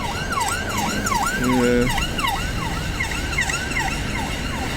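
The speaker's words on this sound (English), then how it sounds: "It's an ambulance, people." An ambulance siren wails in repeated rising and falling sweeps as it passes a roundabout, loud over steady road traffic, with a short horn-like tone midway and a brief spoken word.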